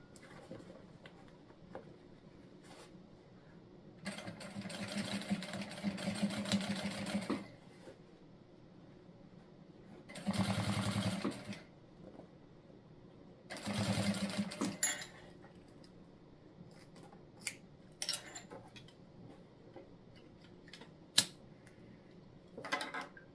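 A sewing machine stitches fabric for a soft-style bag, running in three separate bursts of a few seconds each, with quieter handling noises between them and small clicks near the end.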